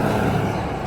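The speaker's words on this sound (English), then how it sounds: "You can hear all the cars going by." Cars and trucks pass on a busy road outside a house in Connecticut, a loud, close, broadband engine and tire rumble filling the brief moment.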